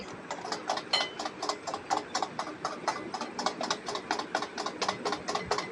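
An electric mixer beats eggs with sugar and salt, a close motor whir broken into fast regular pulses as the beaters churn through the mixture, steady for the whole stretch with no voices.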